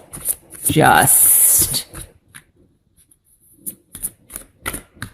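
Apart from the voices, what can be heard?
shuffling and cutting a deck of tarot cards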